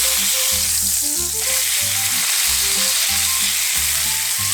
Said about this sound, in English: I've got it on very high heat, and we're going to begin to turn the steak regularly to give it that nice coating with the herb butter